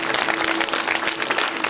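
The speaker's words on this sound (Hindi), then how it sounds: "ताली बजाओ इस बात के ऊपर" An audience claps at a devotional bhajan and Bhagavat katha gathering, giving steady, dense applause with many hands clapping together at close range.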